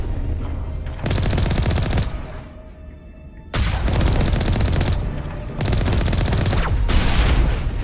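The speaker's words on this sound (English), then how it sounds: "Unlock the rover, get in the vehicle, and shoot the shit out of him." Heavy cannon fire from a rover vehicle in the video game Mass Effect 1, long sustained bursts of booming, crackling blasts that break off briefly and resume, loud and dense with no talking.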